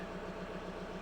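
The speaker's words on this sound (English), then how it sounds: "So it's running at about 950 RPM at idle." A 2001 VW Beetle TDI diesel engine idling at about 950 RPM, a steady low rhythmic clatter and hum, quiet and continuous without talk.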